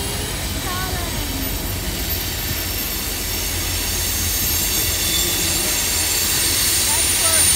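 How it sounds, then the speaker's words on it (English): A freight train rolls past the Marshall, Texas depot, a steady loud rumble of rail cars with faint wheel squeals, growing slightly louder as it goes on. "There's a train, guys."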